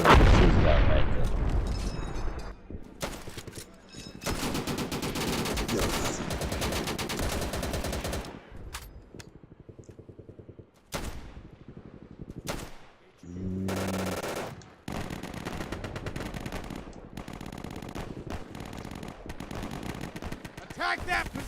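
Machine gun fire in the video game Easy Red 2 on Xbox: rapid bursts of automatic gunfire and heavy booms, loud and repeated with brief gaps, with voices shouting between volleys.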